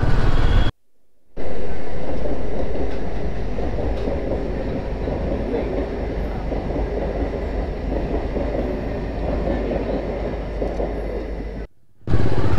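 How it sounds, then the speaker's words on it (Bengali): Trains pass a closed railway level crossing: a loud, steady rumble of rolling wagons and wheels continues for several seconds close by, with brief drops to near silence at the start and end. "অবশেষে 3টে ট্রেন পাস করার পরে গেট খুললো।"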